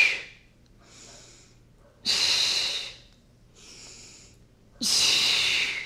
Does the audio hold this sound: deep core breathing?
yes